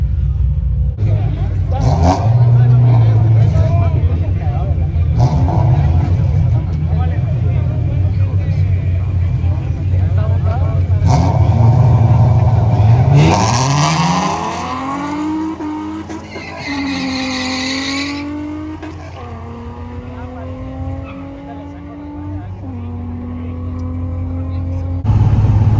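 Ford Mustang and Nissan 350Z launch side by side in a quarter-mile drag race in Guadalajara, engines revving hard with rising gear-shift sweeps and tire squeal, loud and close over a steady crowd murmur.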